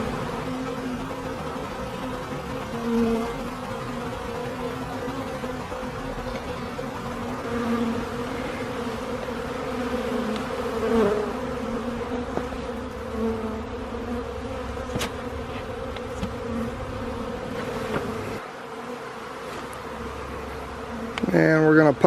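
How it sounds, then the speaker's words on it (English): A dense mass of honeybees at a winter hive buzzes in a continuous, close drone, with brief louder swells and a few clicks and knocks near the end. "just a mass of bees here."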